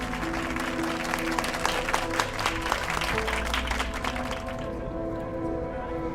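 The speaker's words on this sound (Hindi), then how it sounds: "इनके लिए जोरदार तालियां।" An audience bursts into loud, sustained applause with dense rapid clapping that swells and then tapers off toward the end.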